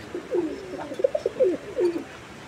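Pigeons cooing in a series of short, soft, close calls, several coos in quick succession over quiet background, no voices.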